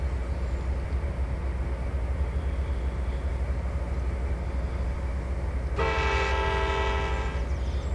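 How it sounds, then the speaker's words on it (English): Train horn in a train simulator video game blares loud and steady over a constant rumbling roundhouse ambience, starting near the end. "Horn's kind of cheesy, not gonna lie."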